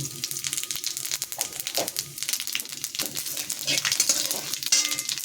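Bay leaf and cumin seeds hit hot oil in a pan, making a close, continuous crackling sizzle with sharp irregular pops and a brief bright hiss near the end.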